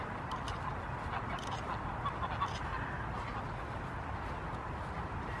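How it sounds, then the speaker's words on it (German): A large flock of geese honks and cackles continuously at a distance, a dense, steady outdoor chorus at moderate volume. "Die ganzen Gänse hier."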